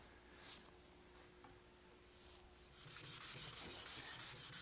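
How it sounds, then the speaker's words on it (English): Hand sanding of a white oak case with 320-grit wet/dry sandpaper over a sealer coat: quiet rubbing at first, then a close run of rhythmic, even back-and-forth strokes, about eight of them. "I've sanded the entire case with some 320 grit wet dry sandpaper"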